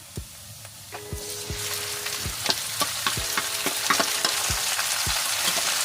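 Squid sizzling and frying in a pan with onion and garlic, a steady bright crackle punctuated by several close clinks and scrapes of a utensil stirring against the pan.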